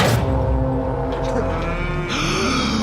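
Cattle moo from a played video, with animals being loaded onto a cart; loud, sustained lowing calls layered over a busy mix of other sounds for about three seconds.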